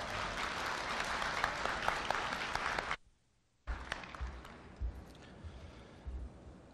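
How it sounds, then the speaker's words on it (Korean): A large audience at a Korea University degree ceremony applauds to welcome the university president, with dense clapping that breaks off briefly into near silence, then resumes more sparsely with scattered claps. "고려대학교 염재호 총장님을 큰 박수로 환영해 주시기 바랍니다."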